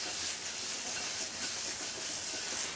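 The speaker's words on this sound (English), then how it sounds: "As the sizzle starts to slow and it gets a little quieter" A steady, dense hiss of food sizzling in a hot pan, fairly constant and soft, with no voices.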